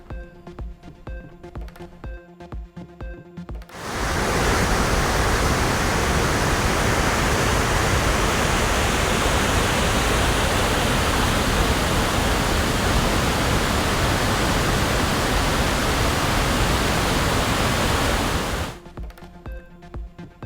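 Surplus water from the Aliyar dam gushes in a loud, continuous roar that lasts about fifteen seconds, with quieter music before and after it.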